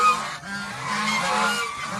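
A flock of geese keeps up a steady stream of honking and cackling nearby, overlapping calls without any talking.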